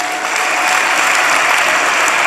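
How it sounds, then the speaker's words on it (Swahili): Sustained, loud applause from a church congregation during a Swahili-language service, dense clapping filling the whole moment with no pauses. "Nataka umpigie makofi mazuri."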